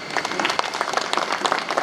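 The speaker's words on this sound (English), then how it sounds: "That deserves another round of applause." An audience at a military book-release ceremony bursts into a loud, sustained round of applause, dense clapping filling the hall throughout.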